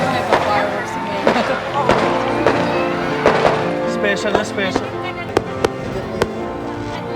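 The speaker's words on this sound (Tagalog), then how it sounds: "May pa-fireworks ngayon." Christmas fireworks go off in a run of sharp booms and crackling pops, some close and loud, others more distant, with people talking and exclaiming throughout.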